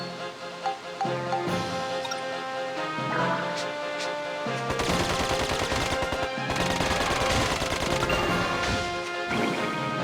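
Gunfire against a large mimic enemy in Dark Cloud 2, fast rattling bursts of shots over the game's music, coming in two strong stretches in the second half after quieter melodic play.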